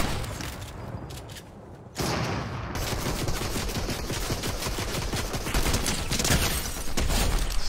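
Rapid bursts of gunfire in a shooting video game, a dense continuous fusillade of loud cracks that briefly pauses, then resumes and keeps rattling without letup.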